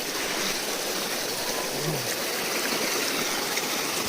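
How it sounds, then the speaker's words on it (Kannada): Mountain stream on the Sabarimala pilgrimage trail, steady, close rushing water that fills the whole stretch without pause. "ನೋಡಿ ಹೆಂಗೆ ಹರಿತಾ ಇದೆ ನೀರು"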